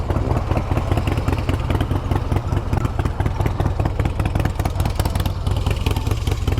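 A 1986 Harley-Davidson FXR motorcycle engine idles steadily while warming up, a close, continuous low rumble with a fast, even clattering pulse and no talk.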